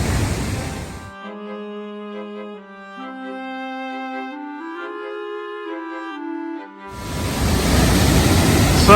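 Dogslaughter Falls in Daniel Boone National Forest at full flow: a loud, steady broadband roar of falling water at the start and end, with tonal music replacing it in between.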